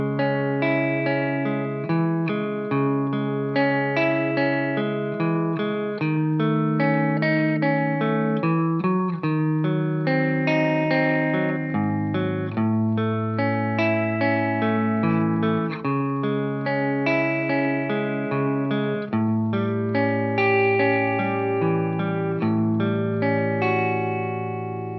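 A guitar plays the chord progression of a song as one continuous piece, clear arpeggiated notes ringing through a chorus-like effects unit with a touch of reverb, alone without voices.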